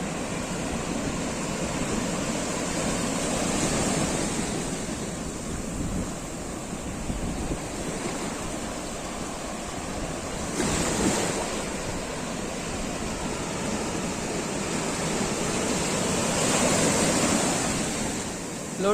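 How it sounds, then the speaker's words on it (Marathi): Large sea waves break on the shore at Tondavali, a continuous roaring surf with swelling crashes and heavy wind noise on the microphone throughout. "लाट पण भरपूर मोठा आहे आता."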